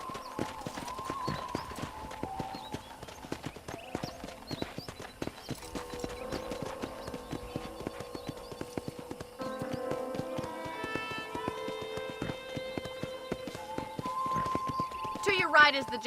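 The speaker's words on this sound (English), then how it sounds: "let's see if you can still ride a horse" Horse hooves clip-clopping at a steady gait while riding through a ranch in the Red Dead Redemption video game, the rhythmic thuds running under game music and character dialogue throughout.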